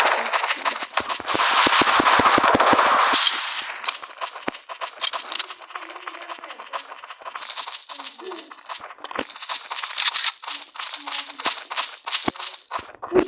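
Gunfire in a soldier video game, including pistol shots: a loud dense burst of rapid shots opens, then sparser scattered shots and game effects follow, with a voice talking at times.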